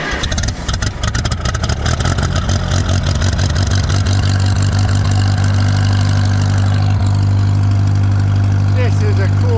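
An old tractor engine idles loud and close with a steady low throb, the throttle set about half open and choke off, running alone without talk.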